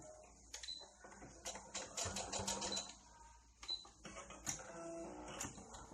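A sewing machine stitches folded skin-tone fabric for a Toy Story Bullseye horse doll, with a steady run of close mechanical clicking and whirring that pauses briefly and then resumes.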